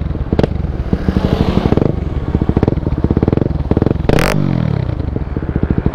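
Yamaha WR 250 supermoto single-cylinder engine idling and blipping close up, a loud steady thumping pulse with short throttle bursts and a sharp rev near the end, no talk.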